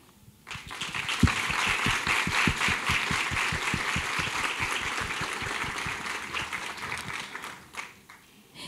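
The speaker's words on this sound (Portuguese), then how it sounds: "eu gostaria de pedir uma salva de palmas" An audience of educators at the opening of a São Paulo early-childhood pedagogy conference applauds steadily for several seconds, with individual claps close by, then the applause fades out.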